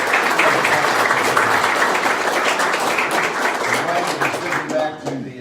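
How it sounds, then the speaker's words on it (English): A round of applause for the ICBA at a venture center event, a crowd clapping loudly and steadily with some voices mixed in, tapering off at the close. "Give the ICBA a round of applause"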